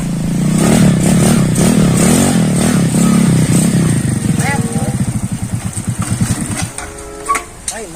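A motorcycle engine runs close and loud, revving hard, then falls into a sputtering, uneven idle with pulsing chugs before cutting out. Voices of people talking nearby come through around it.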